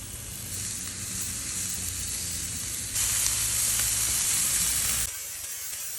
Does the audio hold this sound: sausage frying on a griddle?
yes